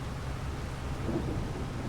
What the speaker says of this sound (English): Oh gonna have to wait for it to stop raining.